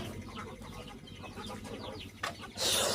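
Guinea fowl and chickens clucking and chirping in a farmyard, a busy overlapping chatter of calls at moderate distance, ending in a sudden louder burst of noise.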